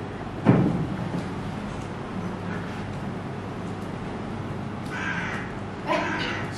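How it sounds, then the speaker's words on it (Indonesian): Crow cawing in the open, with a sharp first call near the start and a couple of fainter, higher calls later over a steady low background hum. "Wah, ada burung gagak."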